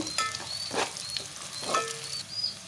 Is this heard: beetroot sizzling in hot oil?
yes